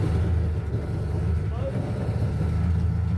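A rebuilt 2005 Yamaha 1200 marine engine runs steadily for the first time, a continuous low rumble throughout, close and moderately loud, with talk over it.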